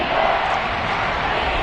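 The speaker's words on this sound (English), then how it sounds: "this crowd gets out making some noise" Football stadium crowd at a Steelers at Dolphins game, a dense, loud roar of cheering and noise filling a brief moment without a break.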